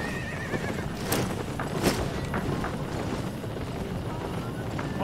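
A horse neighs twice over soft clip-clopping hooves in the online game Albion Online, faint and steady with a light wind-like background.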